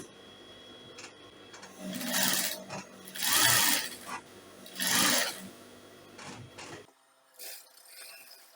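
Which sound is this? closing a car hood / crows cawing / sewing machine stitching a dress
sewing machine stitching a dress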